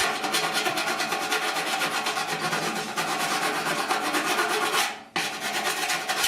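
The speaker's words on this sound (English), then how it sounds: "Exactly what I'm doing with the file." A hand file rasps steadily over metal on a rusted 1969 Chevrolet C10 core support being repaired, with rapid repeated strokes, close and loud, briefly pausing near the end before resuming.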